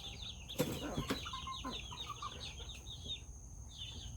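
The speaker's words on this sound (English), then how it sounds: "she's my shoulder perch chicken for the videos" A pet chicken perched on a person's shoulder during outdoor fruit-tree grafting gives soft, repeated clucks near the ear over steady outdoor background noise, with a couple of sharp knocks early on.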